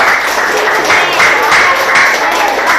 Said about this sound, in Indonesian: Tepuk hebat dulu dong buat Valerie.